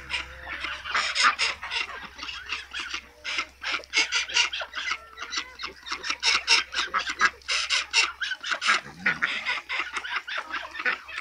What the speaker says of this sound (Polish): Już od kilku dni ta kaczka prześladuje koguta.